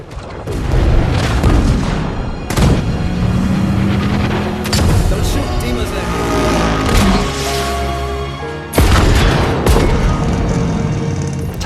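Gunfire and booms from a military action film scene where troops assault a suicide truck, loud and dense, with sharp blasts at the start and near the end over a continuous roar of engines and shooting.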